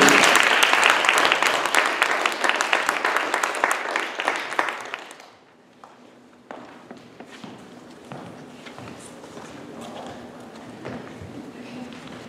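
Loud, dense applause from a crowd fills the first five seconds, then fades to a quiet room with scattered claps and soft movement.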